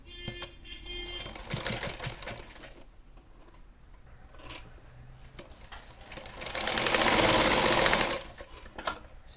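A sewing machine stitches a tassel made from folded cloth, running in steady bursts with a louder sustained run near the end.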